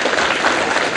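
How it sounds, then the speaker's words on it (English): An audience at a Chicago food drive gathering for letter carriers bursts into loud, dense, continuous applause, a full wash of many hands clapping close by. "Will you join me now in extending a great round of applause to the letter"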